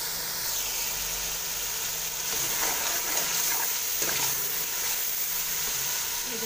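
Masala with tomato frying in a pan on a home stove, a steady sizzle and hiss running throughout with occasional stirring scrapes, close and alone with no talk.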